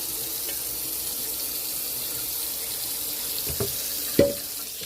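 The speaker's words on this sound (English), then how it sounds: "I just want to rinse them off." Tap water runs steadily into a kitchen sink while cooked fettuccine noodles are rinsed, a continuous close hiss with a couple of brief clunks near the end.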